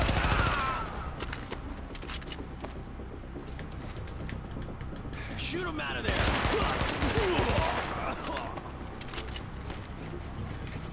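Bursts of automatic gunfire from enemies in The Division on PS4, loud rattling volleys in two main clusters with scattered shots and clinks between them, close and dense.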